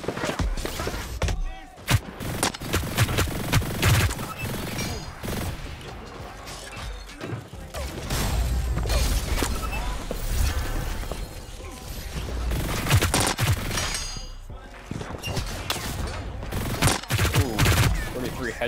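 Rapid, dense gunfire from the shooter game Hyper Scape pops and cracks almost constantly in a loud, chaotic firefight, with crashes and impacts mixed in.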